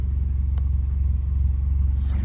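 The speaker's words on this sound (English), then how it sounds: "the car, you can hear it's a bit louder than normal" A Vauxhall car engine with fault code P0137, a low-voltage oxygen sensor circuit, idles with a steady, throbbing low rumble that sounds heavy and louder than normal, running continuously without revving.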